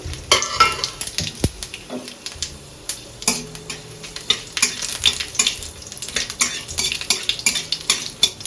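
A spatula clatters and scrapes against a pan while bay leaf, dried chili, five-spice and asafoetida fry in hot oil, producing busy, uneven metallic taps over a soft sizzle, close and fairly loud.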